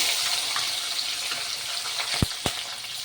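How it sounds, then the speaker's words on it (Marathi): Steady hissing sizzle of chilli pieces frying in hot tempering oil, with a couple of sharp pops near the end; no voices. "मी इथे 7 ते 8 मिरचीचे तुकडे घेतलेले आहेत, ते सुद्धा या फोडणीमध्ये घालून घेते"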